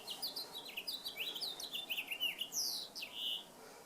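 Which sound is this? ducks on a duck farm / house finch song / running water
house finch song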